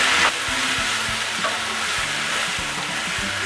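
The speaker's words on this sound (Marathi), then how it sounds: "आता आपण याच्यामध्ये हळद घालूया, शाही बिर्याणी मसाला, लाल तिखट आणि परत एकदा परतून घेऊया" Vegetables for veg dum biryani sauté with turmeric, shahi biryani masala and red chili, a steady close sizzle broken by regular scraping stir strokes across the pan.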